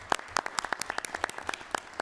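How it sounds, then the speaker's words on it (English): Sparse, distinct claps ring out from a small audience at a school board meeting, an uneven scatter of individual hand claps rather than full applause. "Let's have a round of applause"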